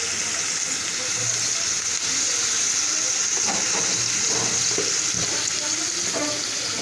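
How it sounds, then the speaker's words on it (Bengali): A steady, loud hiss of cooking oil poured into a hot pan, the sound of Bangladeshi home cooking while shapla stems and prawns are being prepared. The hiss holds even throughout, with faint voices beneath it. "এখন তেল দিয়ে দিব"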